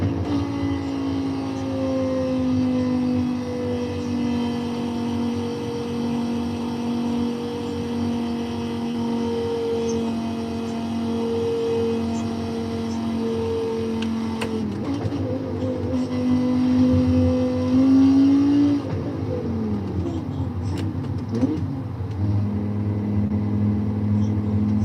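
A steady car engine hum in Forza Horizon 5 cruises at constant pitch, then revs shift and dip near the end, a smooth synthetic driving drone with no talk.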